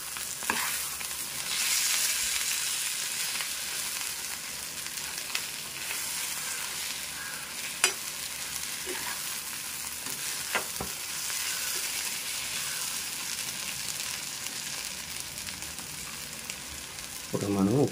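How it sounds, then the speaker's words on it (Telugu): Chopped coriander is mixed into a curry in a pan on a stove, with a continuous close sizzle and intermittent spoon scrapes and clinks against the pan throughout. "కొత్తిమీర అయితే వేసుకొని ఒకసారి బాగా కలిపేసుకొని స్టవ్ ఆఫ్ చేసుకుందాం"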